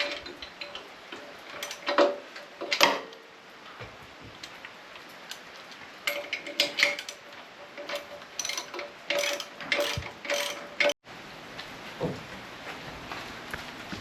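Ratchet tightening three bolts on a mower attachment fitted to a Stihl MH710 rototiller, heard as irregular bursts of clicking strokes with short pauses, fairly quiet and close, with no talk.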